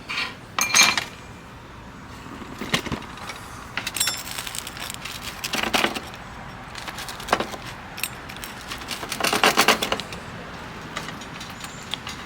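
A knife or pizza cutter works through an einkorn sourdough pizza on a pan, producing scattered metallic scrapes and clinks in short bursts, close up, with quiet pauses between cuts.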